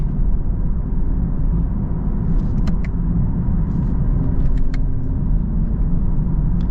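A 2024 Chevy Camaro V6 engine drones steadily up close, a low continuous rumble with faint high ticks and whines above it, no voices.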